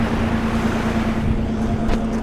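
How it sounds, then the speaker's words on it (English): A large exhaust fan runs in a light-deprivation greenhouse covered in two layers of plastic, giving a loud, steady whooshing roar with a constant low hum, close by and unbroken. "So it'll be a little loud, but this is the exhaust."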